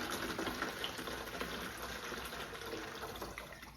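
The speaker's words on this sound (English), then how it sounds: "So I have our first quart being poured in." Water poured from a quart container into a gallon container, a steady broadband gush of liquid filling a larger vessel, close and continuous throughout with no talk.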